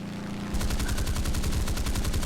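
Aircraft guns of a Grumman F8F-1b Bearcat fire in a flight combat video game, a rapid, loud, evenly spaced burst of machine-gun shots starting after a brief engine drone and continuing steadily.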